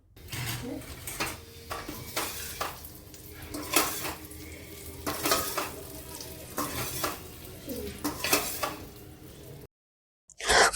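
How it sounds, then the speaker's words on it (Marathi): Dates roasting in plenty of ghee in a pan, with repeated scraping and stirring clatter against the metal over a steady low frying sizzle, close up and fairly loud, no talking. "चांगल्या तुपामध्ये जास्त तुपामध्ये मी इथं खजूर हा भाजून घेत होते"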